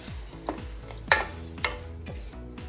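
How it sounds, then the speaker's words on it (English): Seafood pasta with halved cherry tomatoes and chopped parsley is stirred in a pan, several scraping stir strokes over a soft, low sizzle, quiet and close with no talking. "Stir this around."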